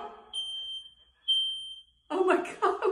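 Indoor smoke alarm going off, two loud high-pitched piercing beeps about a second apart, followed by excited voices talking.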